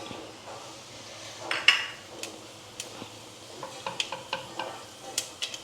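Mustard and fenugreek seeds frying in hot oil for Kerala rambutan pulissery give a faint sizzle, broken by scattered small pops and crackles and light spoon clinks.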